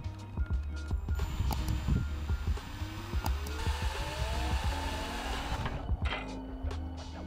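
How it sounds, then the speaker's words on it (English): A power drill with a wood bit bores a hole through a greenhouse roof part, giving a whirring motor whine that rises and falls in pitch over a clattering, buzzing grind, close up and continuous. "I'm going to drill a hole through here just to show you what that looks like"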